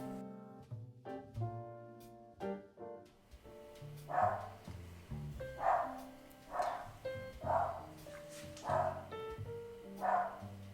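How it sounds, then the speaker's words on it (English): A dog barks repeatedly in a steady series of sharp woofs, moderately close, over faint tonal background noise. "Whenever a dog goes by, my dog goes nuts."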